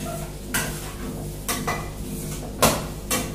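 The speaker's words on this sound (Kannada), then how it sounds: "ಚೆನ್ನಾಗಿ ಇದನ್ನ ಫ್ರೈ ಮಾಡ್ಕೋಬೇಕು" A utensil scrapes and clanks against a pan while ingredients fry for a vegetable pulao, with four distinct metallic strikes over a steady low hum of the stove.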